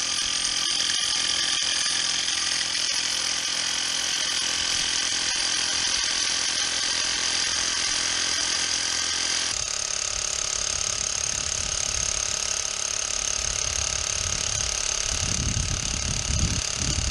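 A pneumatic chipping hammer runs continuously with a dense, high-pitched rattling hum, shifting tone midway as it bites into material.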